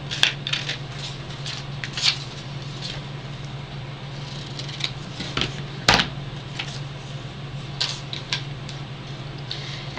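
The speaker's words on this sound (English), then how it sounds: "here I go again with my jumbo scissors" Jumbo scissors cut through paper in a series of short, crisp snips and rustles, with one sharper louder cut midway, over a low steady hum while scrapbook layout work is under way.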